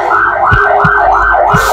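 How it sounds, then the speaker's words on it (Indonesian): A loud ambulance siren wails close by, rising and falling in a steady repeating pattern, with a few low thumps underneath. "Ada ambulans."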